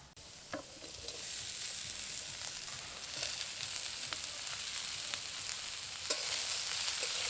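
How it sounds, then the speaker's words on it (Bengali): Khero (cucumber-like gourd) and potatoes fry in oil with a close, even sizzle, while stirring adds occasional light scrapes and taps. "আবারও কিছুক্ষণ ভালো করে নাড়াচাড়া করে নেব।"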